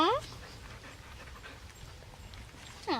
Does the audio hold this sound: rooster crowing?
no